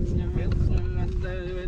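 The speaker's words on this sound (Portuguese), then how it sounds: "porque tá batendo um vento gelado aqui" A cold wind blows across a motorcycle campsite at Abrigo 1500 in Urubici, Santa Catarina, making a loud, gusty low rumble against the microphone while a person talks over it.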